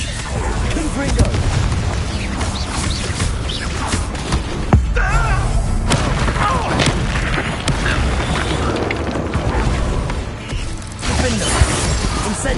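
Confringo blasting spells from Hogwarts Legacy going off in a dense game battle, booming explosive bursts and crackling impacts layered over constant combat effects and music at steady loud level.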